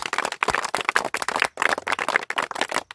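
A group of children clapping in a hostel classroom, producing a dense, loud burst of continuous applause with brief dips, no speech over it.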